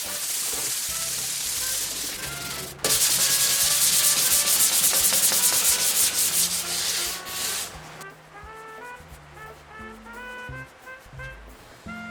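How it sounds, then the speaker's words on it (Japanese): A wooden hexagonal table top is lightly hand-sanded with 400-grit sandpaper, loud rhythmic rasping strokes close up that run steadily and then fade into intermittent rubs over background music. "400番でサンディングして、もう一度ウレタンニス塗っていきます"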